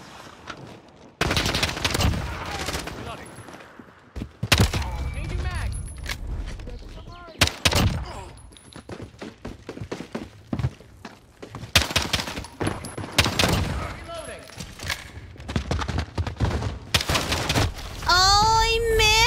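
Glock pistol fire in a video game comes as bursts of loud sharp shots scattered through the stretch, separated by quieter gaps, with talking in between.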